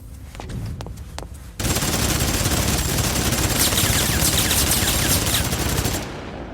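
Rapid, continuous machine gun fire in the video game Xenosaga erupts after a few scattered shots, a dense sustained burst of gunfire that cuts off abruptly near the end.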